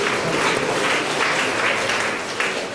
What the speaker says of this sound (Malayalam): കൈയടിച്ച് കർത്താവിന് നന്ദി പറയാം.